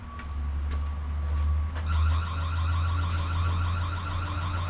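A home security camera alarm sounds, a high warbling electronic siren that starts partway through and continues steadily over a loud low rumble.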